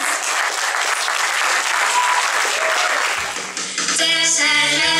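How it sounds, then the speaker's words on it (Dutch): Audience applause at a youth council election for carnival, steady close clapping for about three seconds, then tapering off as a voice begins speaking. "Heel goed applaus."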